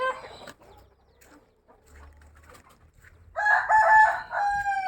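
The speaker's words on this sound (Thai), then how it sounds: "ไก่หนุ่ม ไก่เยอะครับ" Young roosters penned together in large numbers, with clucking and soft calls at first, then a loud, sustained crowing from one or more birds close by in the last second and a half.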